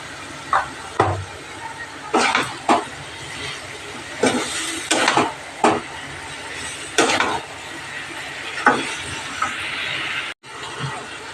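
A spoon stirs banana flower and prawn curry in a pan, making repeated scraping, clattering strokes in irregular bursts over a soft sizzle.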